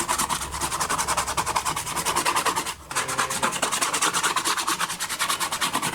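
A brush or rag rubs oil paint into the grooves of a canvas for a seascape, a dense, rapid, rhythmic scrubbing heard close and loud, with one brief pause midway.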